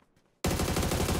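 A gun firing in the video game PUBG: after a near-silent moment, a loud, close burst of rapid automatic shots starts abruptly and keeps going in a steady rhythm to the end, with no talking.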